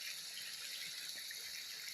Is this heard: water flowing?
yes